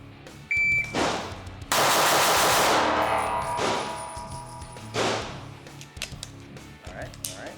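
A timed shooting drill with handgun shots, a few loud sharp bangs spaced out in a burst, with a shot-timer beep, some thumps and voices around them.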